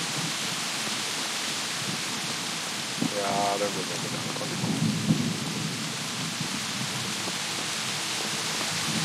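Steady downpour of rain with low thunder rumbling in the medieval role-playing game Kingdom Come, a constant hiss throughout while someone speaks briefly over it.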